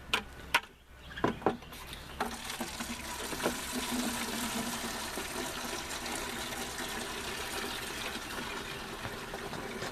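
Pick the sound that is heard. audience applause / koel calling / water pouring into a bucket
water pouring into a bucket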